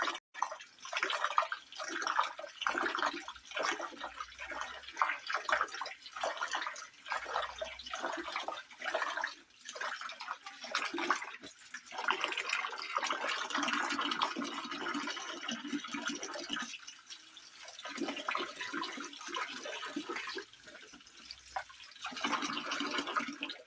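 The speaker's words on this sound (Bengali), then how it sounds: "পুকুরের যে নোংরা জলটা এ থেকে বেরিয়ে যাবে আস্তে আস্তে, এটাকে এইভাবে ধুয়ে দিতে হবে।" Running water pours steadily over daphnia being rinsed to wash out dirty pond water, a continuous close splashing and trickling with dripping, no voices.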